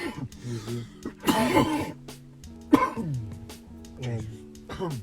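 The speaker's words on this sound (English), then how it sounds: "I cough a lot." A few harsh coughs and throat-clearing bursts break up stretches of voiced, speech-like sound, close to the listener.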